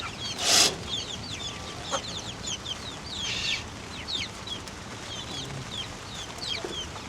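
Chickens on a small rooftop farm, some sick and breathing with open beaks, cluck repeatedly in short close calls, with one louder squawk near the start and steady background noise.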